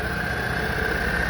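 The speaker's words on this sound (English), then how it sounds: "I'm just gonna let it run for a little bit. It should run on its own. I'm hoping it stays idling." The engine of an Argo 8x8 amphibious ATV with a CVT idles steadily at close range. It gives a constant, even hum with a droning tone and no variation over a very short stretch.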